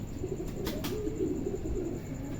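Pigeons coo softly and continuously over a steady low background, a close, murmuring flock sound at modest volume with no talk.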